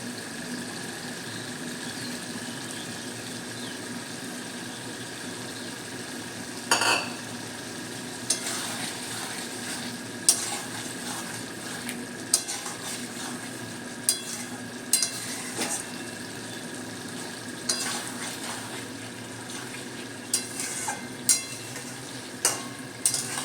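Mourala fish curry cooking in oil in a pan, a steady low sizzle with repeated sharp scraping taps of a spoon stirring at irregular intervals, close and moderately loud, no talking.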